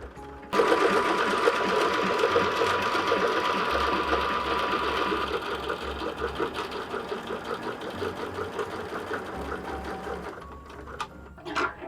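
A sewing machine stitching thread through fabric while a holiday cushion cover is made, a loud, steady mechanical whir with fast rhythmic needle chatter that slows and stops near the end.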